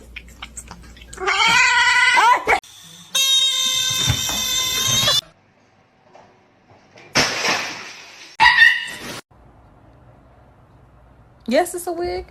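A cat meows loudly and repeatedly in long, drawn-out wails with silent pauses between them.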